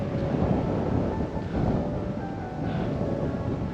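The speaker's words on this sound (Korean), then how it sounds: "바람이 불고 있는데요" Cool wind blowing steadily near a mountain summit on a cycling route, a constant loud broadband rush with gentle surges and no voices.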